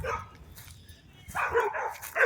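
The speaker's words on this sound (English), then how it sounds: "Ignorant neighbors with ignorant dogs." Neighborhood dogs bark outdoors in bursts, a couple of close, loud barks at the start and a louder cluster near the end, with quieter stretches in between.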